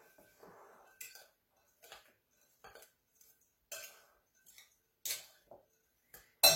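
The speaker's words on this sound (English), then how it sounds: "I'm going to use my big spoon and just mix that up" A big spoon mixing sugar, cinnamon and cloves for a filling in a bowl, a sparse series of sharp scraping clinks at irregular intervals with quiet gaps, the last one loudest.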